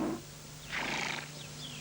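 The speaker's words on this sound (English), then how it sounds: "Rare wild horses from Asia." Wild horses of a rare Asian breed kept in a wildlife park in Kent give a single drawn-out whinny at moderate distance, rising in the middle of the clip over faint outdoor background.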